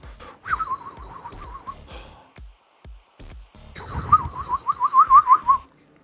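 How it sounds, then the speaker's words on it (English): A person whistles loudly and close by in two warbling bursts with a short gap between them, the second rising into sharper trilled notes, with breaths and faint clicks around them. "Okay, I should not whistle like that."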